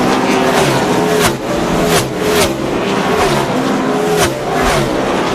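NASCAR stock cars at the 2002 Virginia 500 race past the line one after another, loud engine roars rising and falling with rapid passes over steady track noise.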